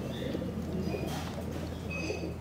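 Pigeons in a young-bird loft give low, soft coos over a steady background rumble, close by and fairly faint, with no talk.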